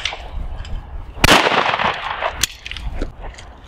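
A Beretta DT11 shotgun fires a single sharp, loud report with a brief crack and a short echoing tail, set among quieter outdoor background noise.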